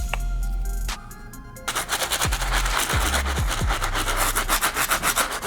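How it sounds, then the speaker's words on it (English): Stiff bristle brush scrubbing the rubber soles of Jordan 7 Pacific Blue sneakers, rapid rhythmic back-and-forth scratching strokes, close and loud, after a short quiet pause. "I'm pretty sure the stiff bristle is not going to do the job, but we're going to try it anyway."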